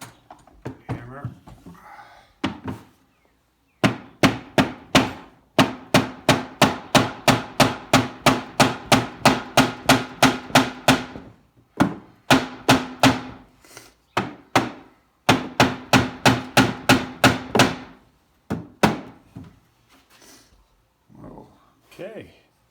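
Repeated hammer blows in a video game in fast, steady bursts, several long runs of rhythmic striking separated by brief pauses, close and loud.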